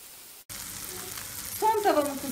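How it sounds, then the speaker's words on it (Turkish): Sliced chicken döner sizzles in a frying pan at home, a steady close crackle that starts after a brief silence and grows busier toward the end, with a faint voice over it. "Tavamı kızartıyorum."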